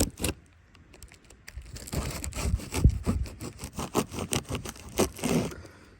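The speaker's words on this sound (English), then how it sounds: "Well, I ended up using the Sawzall anyway, just went at a slow pace." A Sawzall reciprocating saw working slowly through material, with intermittent rasping scrapes and sharp clicks in uneven bursts, close up and moderately loud, with no talk.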